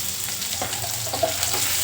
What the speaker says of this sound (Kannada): ಸಾಸಿವೆ, ಸ್ವಲ್ಪನೇ ಜೀರಿಗೆ, ಆಮೇಲೆ ಫ್ರೆಂಡ್ಸ್ ಈರುಳ್ಳಿ ಮೆಣಸಿನಕಾಯಿ.